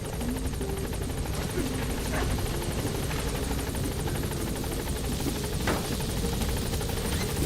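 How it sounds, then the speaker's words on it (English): A helicopter arrives in the video game Metal Gear Solid V, its rotors giving a steady, fairly quiet whirring drone that carries on without a break, with a few brief clicks on top. "Seeing the helicopter come in, like, the way that it kicks up dust and stuff, too."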